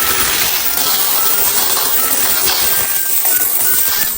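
Coins pour out of a PisoNet coin-operated computer in a continuous, loud metallic clattering rush that lasts throughout, with no voices.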